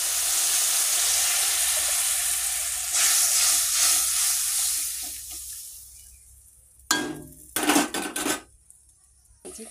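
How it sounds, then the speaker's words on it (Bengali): Water poured over spice powder and mustard boils in a cooking pot, giving a loud steady hiss and bubbling that fades away, followed by a few sharp metallic clinks near the end. "এই যে ফুটছে"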